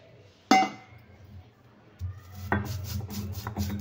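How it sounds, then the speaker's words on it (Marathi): Cumin seeds crushed in a mortar and pestle, starting with one sharp knock, then a quiet pause, then a run of steady grinding and tapping strokes heard up close. "जिरे आपल्याला वाटून घ्यायचे छान।"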